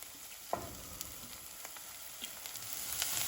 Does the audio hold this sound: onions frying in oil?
yes